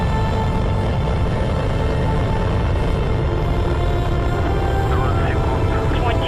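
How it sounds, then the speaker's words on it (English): A Soyuz TMA-05M rocket lifts off, its engines producing a continuous loud, broadband roar that holds steady throughout, with a voice speaking over it. "Liftoff of a Soyuz TMA-05M"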